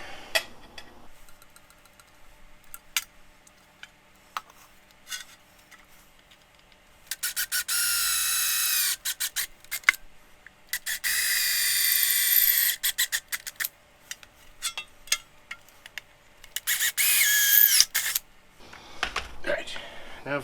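A 21/64 drill bit bores a 9mm hole in aluminum during a motorcycle muffler fitting, heard as three separate bursts of whining, grinding drilling with quiet pauses and small handling clicks between them.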